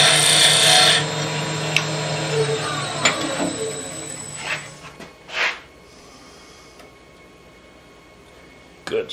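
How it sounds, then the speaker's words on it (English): Square nose scraper cutting wood on a lathe while making a box with inserted brass threads, a steady close scraping hiss for the first few seconds, then a few brief scrapes before the clip goes mostly quiet. "I'm going to go back to a nice square nose scraper here that might do the job"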